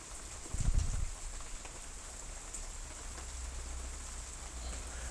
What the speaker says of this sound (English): Rain is still uh, quite amazing, isn't it?